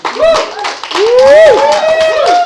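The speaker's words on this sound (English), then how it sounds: "Clap, come on." A comedy theater audience claps in quick, loose bursts beneath a loud, close voice whooping and calling out, the clapping partly masked by the voice.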